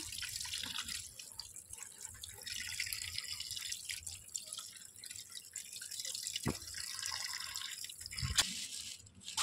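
Tap water runs and drips over prawns and catla fish being washed in a sink, a steady close trickle with a few sharper splashes near the end.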